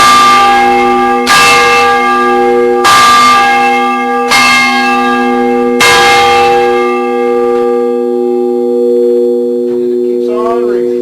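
A church bell tolls five slow, loud strikes about a second and a half apart, each one ringing on and fading into a long humming decay.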